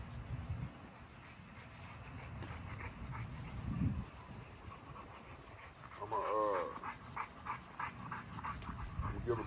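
French bulldogs whimper, pant and give a few yips close by, with a person talking quietly underneath.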